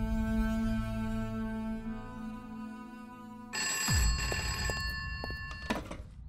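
An old telephone bell rings loudly in long metallic bursts in a household, preceded by a sustained tonal drone, with no one speaking.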